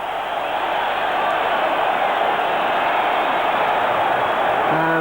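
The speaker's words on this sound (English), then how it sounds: "the roar of the crowd making it difficult for the referee to indicate that the game should be restarted" Dense, steady roar of a football stadium crowd at a Napoli v Empoli Serie A match, loud and continuous throughout with no gaps, with a brief whistle-like tone near the end.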